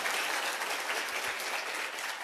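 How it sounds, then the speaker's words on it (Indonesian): Audience applause at a business seminar on direct selling, a continuous dense wash of clapping from a crowd at even loudness throughout, with no voices over it. "Tepuk tangan dulu buat Anda deh"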